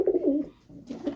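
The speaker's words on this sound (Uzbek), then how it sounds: "Mana kaptar." Pigeons coo close by, a few soft, throaty rolling calls, a brief pause midway, then more cooing at the end, with nothing else in the background.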